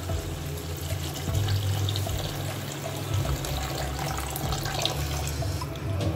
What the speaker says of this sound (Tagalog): Lagyan ng tubig, ganyan.